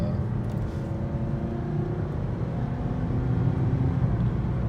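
Engine of a 2015 Kia Optima EX accelerating onto a highway, a low steady hum with faint rising tones under road and cabin noise, subdued and even throughout.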